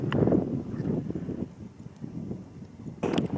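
Gusty wind buffets the microphone on an exposed gritstone edge at the top of Stanage Edge in the Peak District, a steady low rumble with louder bursts at the start and end.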